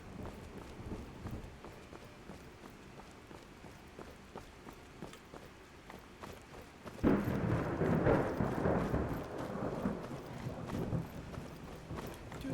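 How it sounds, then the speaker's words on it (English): Thunder and rain in the video game Skyrim: a soft backdrop of rain and faint hoofbeats gives way midway to a loud, rolling thunderclap that lingers as a broad rumble. "I do love the sound of thunder."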